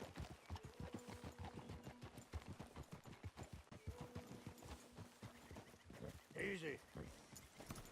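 Horse hooves clip-clop in a steady, fairly close trotting rhythm through most of the ride in the Western video game Red Dead Redemption 2, with a rider and companions talking over them and a brief whinny near the end.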